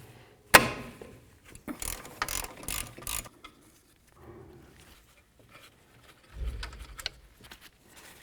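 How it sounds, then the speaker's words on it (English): A hand ratchet works a rear brake caliper mounting bolt loose on a 2007-17 Jeep Compass, with a sharp initial crack followed by quick bursts of metallic clicking, then pauses and a final short run of ratcheting. "we're going to move along to removing these bolts"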